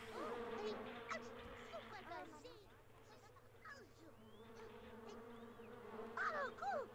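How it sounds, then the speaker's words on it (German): A steady insect buzz from bees at night in the life-simulation game Sims 2 drones quietly throughout, with someone talking over it. "Mitten in der Nacht Bienen entdeckt,"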